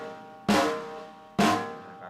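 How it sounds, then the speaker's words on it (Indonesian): A snare drum is hit the wrong way, on the head without touching the metal rim, twice in a row, close and fairly loud, each stroke decaying slowly with no other sound. "Pukul snare yang salah adalah seperti ini."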